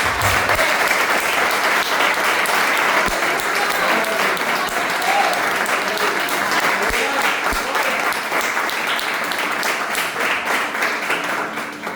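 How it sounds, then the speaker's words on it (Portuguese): Church congregation applauding Jesus after a sermon, a steady, full wash of many hands clapping that holds evenly for about twelve seconds, fading slightly at the end. "vamos aplaudir Jesus pela sua palavra"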